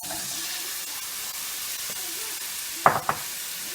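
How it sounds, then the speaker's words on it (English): Chopped vegetables hit a hot pan after chicken has been browned and removed, giving a steady broadband sizzle throughout with a couple of louder splashy bursts near the end; no talking. "I'm going to pour the vegetables in."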